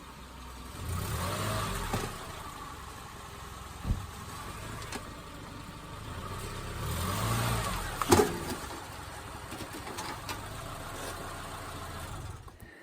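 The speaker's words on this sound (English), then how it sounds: "it is a little tricky to drive up one of these tire ramps" A car engine idles and revs gently as the car creeps up onto tire ramps, a low steady rumble that swells twice, with a few thumps and knocks near the ramps.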